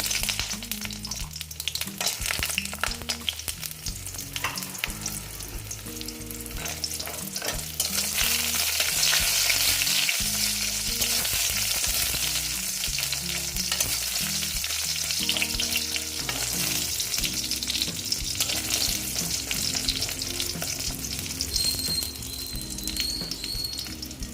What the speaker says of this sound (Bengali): এইবার আমি বড়িগুলো ভেজে নেবো